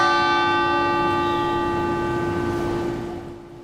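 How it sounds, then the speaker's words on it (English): A single memorial bell rings out for shooting victims, its long resonant tone slowly decaying and fading over several seconds with no voices. "that bell rang once every minute for the 21 victims killed"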